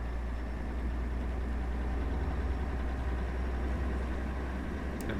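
A Mercedes Actros MP2 truck in Euro Truck Simulator 2 idles with a small engine, giving a steady low rumble that holds even and continuous without any voices.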